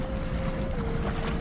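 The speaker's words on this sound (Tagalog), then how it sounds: "ito yung bangka ng Camp Malaya" A boat belonging to Camp Malaya cruises the water off Balabac, Palawan, its engine droning steadily and close, with a faint whine over rushing water and wind.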